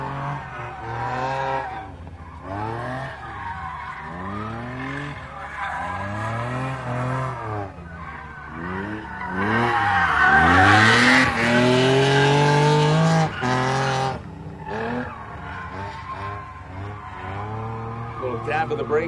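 A drift car screeches through a qualifying run, tires squealing in long wavering sweeps as the engine revs and pitches up and down, with a commentator talking over it; the squeal peaks loudly midway.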